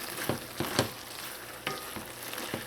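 Curry chatigne made with katahar, cooking in a pot as baking powder is stirred in, a soft steady simmering hiss with a few light spoon knocks and scrapes against the pot.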